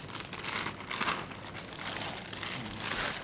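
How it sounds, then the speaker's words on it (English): A plastic zip bag is opened, giving a continuous close crinkling and rustling of handled plastic with no voices. "Let's just open the zip bag."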